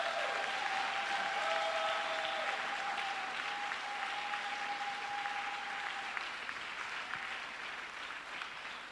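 A church congregation applauds and cheers in a sustained wave of clapping that fills the room, with a high whistle or shout riding over it early on before the applause slowly thins.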